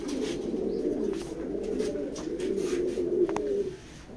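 Pigeons coo steadily in a loft, with low rolling calls overlapping throughout and a brief sharper sound near the end before the flock quiets slightly.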